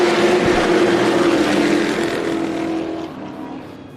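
Pro Stock race cars accelerate away at the green flag at Tucson Speedway, a loud roaring pack of engines that fades gradually as they head into the first turn, heard from trackside.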